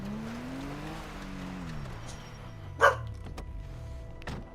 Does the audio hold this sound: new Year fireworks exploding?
no